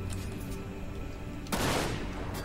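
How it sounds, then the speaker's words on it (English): Gunfire aimed at the player in Dirge of Cerberus: Final Fantasy VII, with scattered shots over a droning background and then a loud, sustained burst of rapid fire close by, with no talking. "Am I like getting shot at?"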